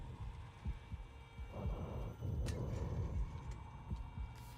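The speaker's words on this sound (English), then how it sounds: "ominous heartbeat sound" Ominous heartbeat sound effect from the video game Silent Hill 2: a steady series of low, muffled thumps repeating at a slow regular rhythm beneath a dark, continuous background hum.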